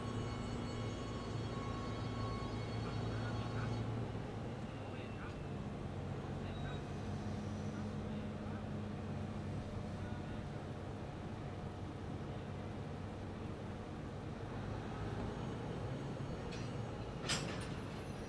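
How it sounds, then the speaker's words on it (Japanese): A DD200 diesel locomotive at a JR Takayama Line station idles with a low diesel rumble and creeps slowly toward freight wagons for coupling, distant and steady with a short sharp clank near the end. "ホーンの合図の後、 DD200 はゆっくりと貨車に近づいていきます"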